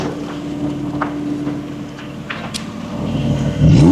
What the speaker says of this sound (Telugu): V6 ఇంజన్ కాబట్టి దీని పవర్ ఎక్కువ కాబట్టి సౌండ్ ఇలా వస్తుంది